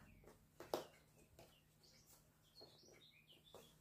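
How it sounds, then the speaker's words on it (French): Faint, scattered bird chirps and tweets in the distance, with a few sharper calls over a quiet background. "Les petits oiseaux chantent, vous entendez"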